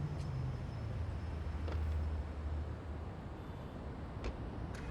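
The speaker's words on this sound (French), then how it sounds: "Ouah, les bagnoles." Car traffic in the video game The Matrix Awakens, rendered in Unreal Engine 5 on an Xbox Series X: a steady low rumble of passing vehicles with a brief swell of engine drone, continuous and moderately loud, with no talking.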